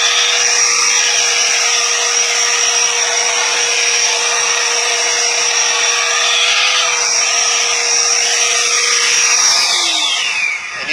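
A WORX WG520 Turbine 600 electric leaf blower, 12 amp, runs steadily at a strong, high whooshing whine that holds nearly constant before easing slightly at the end.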